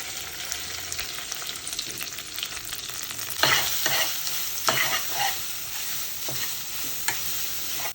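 Curry leaves, grated coconut and green chillies frying in a pan, a loud steady sizzle broken by bursts of stirring and scraping, heard close with no talking.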